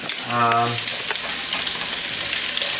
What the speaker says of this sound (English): So the pot is nice and hot, so I'm going to go ahead add some onions in it.